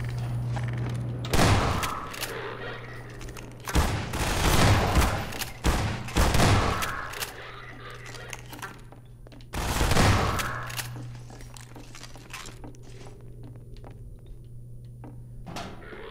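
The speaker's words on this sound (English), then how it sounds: "Now they're shooting at me more" Enemy gunfire erupts in Half-Life 2 near a rickety bridge, with loud bursts of rapid shots in several clusters separated by quieter stretches of low background hum.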